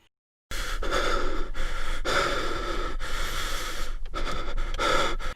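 Astronaut breathing inside a helmet in space in Gravity: close, heavy, rhythmic inhales and exhales, loud and alone, about six breaths with short pauses between them.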